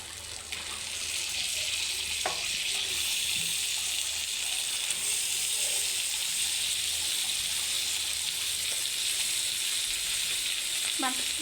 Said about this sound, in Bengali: মাংসটাকে সুন্দর করে কষাই নিব আমি